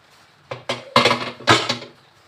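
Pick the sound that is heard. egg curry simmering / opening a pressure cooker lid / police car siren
opening a pressure cooker lid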